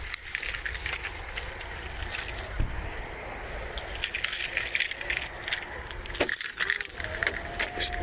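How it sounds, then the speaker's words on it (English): Keys jangle and clink briefly inside a car while driving through Stirling town centre, a light metallic rattle over steady road and engine noise, with no one talking. "You get your keys."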